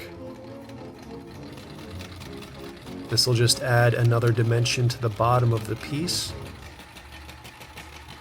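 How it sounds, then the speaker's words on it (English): A consumer-grade home sewing machine hums and whirs in a steady run of stitching through cut velvet upholstery fabric, briefly pausing, while someone speaks over it. "This is a consumer grade sewing machine."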